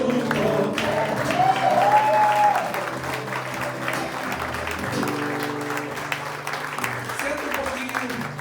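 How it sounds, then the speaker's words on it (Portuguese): A church congregation applauds loudly in a sustained burst of clapping that swells and then fades, with a voice talking and music underneath. "Meu Deus, pode aplaudir bem forte"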